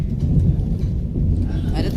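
Deep, continuous low thunder rumbling at the start of a rainstorm, a heavy steady roar that fills the whole stretch without a break.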